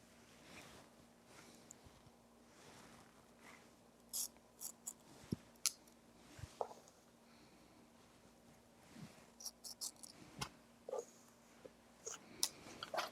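Shark fin shears snipping through hair during a layered haircut, sparse crisp cuts at irregular intervals, quiet and close over a faint room hum.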